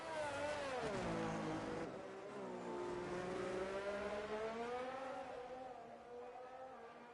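Race car engine on an out lap at Monza in a racing video game, a loud continuous tone that rises and falls through gear changes, close and steady throughout with no other sounds.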